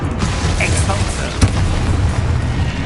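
Expulso spell explosion in the video game Hogwarts Legacy, a booming blast with one sharp burst amid continuous loud rumbling combat noise.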